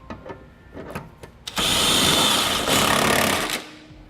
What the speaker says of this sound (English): we can go ahead and snug it up, and we'll be using a 17mm socket for these two bolts